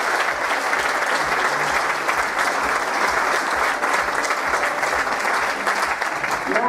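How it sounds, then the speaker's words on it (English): A crowd's enthusiastic round of applause after a football freestyle show, dense continuous clapping at full strength from start to finish, with no voices rising above it. "One more time, huge round of applause."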